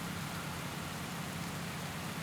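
Steady, dense rain pours down in a Pro Cycling Manager 2020 race stage, a constant broadband hiss with no breaks and no talk.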